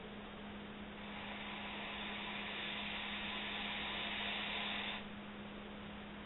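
Air rushes through a 26-inch Mya Gyro hookah in a steady breathy hiss that swells for about four seconds and then eases back to a low background hum.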